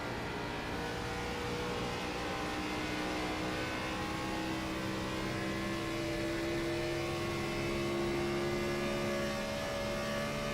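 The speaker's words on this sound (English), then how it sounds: "as we're listening in on Burns' car" A race car engine in a racing simulator at Echo Park Speedway holds a steady high whine with sustained tonal harmonics, running continuously at moderate level with no talk.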